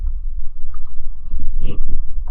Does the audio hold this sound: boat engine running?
yes